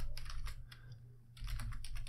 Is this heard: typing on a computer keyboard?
yes